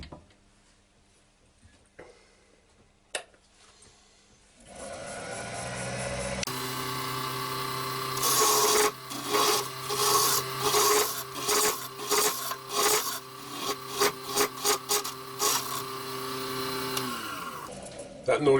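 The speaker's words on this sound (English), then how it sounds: "That noise you can hear is actually my tailstock vibrating." Wood lathe turning a cup, its tailstock vibrating: a droning mechanical whine joined by rhythmic rasping bursts as a tool scrapes the spinning wood, loud and close throughout.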